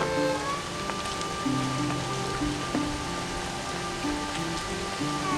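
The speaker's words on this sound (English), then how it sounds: "Even in the rain of the Peak District summer," Steady summer rain falls across open Peak District countryside, a continuous even patter holding at a constant level throughout with no voices.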